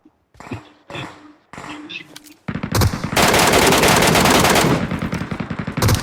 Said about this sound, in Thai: ยิงยับเลยนะ ตรงนี้